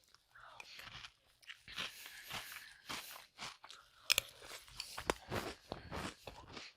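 Cinnamon Toast Crunch cereal crunched in the mouth, a run of close, quiet, irregular bites and chews with soft breathy sounds between them.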